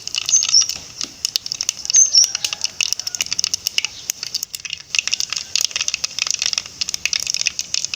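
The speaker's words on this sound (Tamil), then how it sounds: "கடுகு பொரிஞ்சிருச்சு." Mustard seeds splutter and pop in hot oil in a pan, a dense crackling patter of tiny sharp bursts running continuously and loud at close range, with no talking over it.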